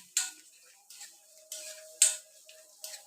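Chopped onions stirred in a pan for chicken roast, heard as a handful of sharp spoon scrapes and taps against the pan at irregular intervals, close and fairly quiet.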